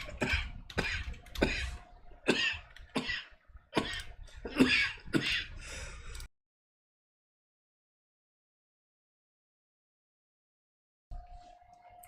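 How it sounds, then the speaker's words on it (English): A person coughs repeatedly in a rough burst of several harsh coughs, then silence, followed by faint room noise at the end. "Sorry about the cough."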